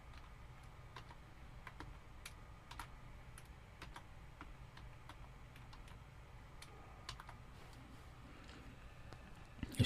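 A password is typed on a computer keyboard, a quiet run of scattered key clicks in an uneven rhythm over a low steady room hum, close but faint.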